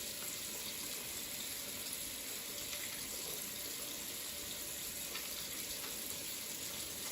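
Hands are rubbed and washed under a running tap at a sink, a steady close rush of water that covers the whole stretch, with no talking.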